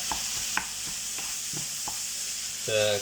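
Steady sizzling of onion frying in a pan for cottage pie, with a few light clinks of a utensil stirring and a brief hum near the end.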